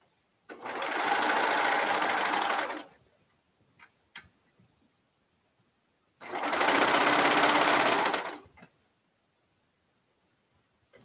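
A sewing machine stitches through three quilt layers in two loud, steady bursts of about two seconds each, with quiet gaps and a few soft clicks between them.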